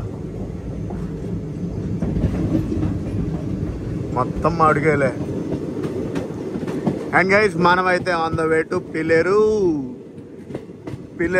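The Narsapur Dharmavaram Express rumbles steadily along the rails near Pileru with a continuous clatter of wheels, while someone talks over it for most of the stretch.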